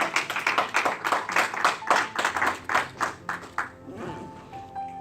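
A church congregation claps in a steady, brisk rhythm, many hands together and fairly close, the applause thinning out near the end as a voice begins to speak.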